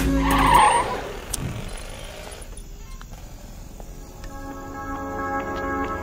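A vehicle pulls over and comes to a stop, with a loud engine and tire noise at the start fading quickly into a quieter idle, no one speaking.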